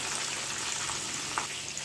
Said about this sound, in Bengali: এইভাবে আমরা ক্রিসপি ক্রিসপি করে ভেজে নেব